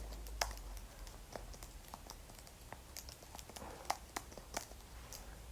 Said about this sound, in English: I'll be able to type a lot faster with my keyboard.